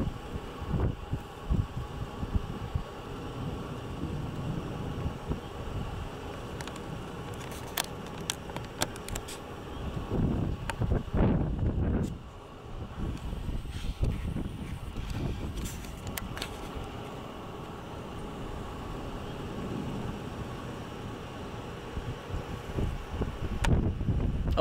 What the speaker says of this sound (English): The wind's getting sucked into the storm behind us.